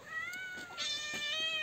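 A cat in a Turkish village, Gümüşalan, meows several times, short high calls spaced across the moment. The meows are fairly close but soft, heard alone without talk.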